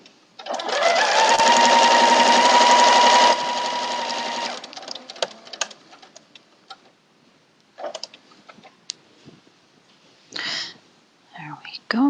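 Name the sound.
sewing machine stitching quilt block over a pin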